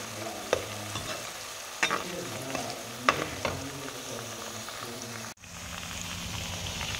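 Ginger and garlic stirred in hot oil in a pan for cabbage pickle, a steady crackling sizzle with a few sharper scrapes of the spoon, close and moderately loud, with no talking.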